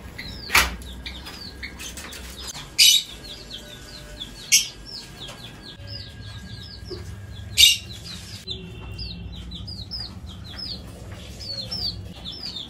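Pet lovebirds and cockatiels chirp in a steady run of short, high twittering calls, with a few louder squawks or bumps standing out, all moderately close and continuing without any talk.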